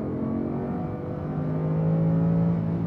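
A Lamborghini Huracan accelerates on a track course, its engine a steady, moderately loud drone that climbs gradually in pitch over a few seconds, heard from outside the car with no talking.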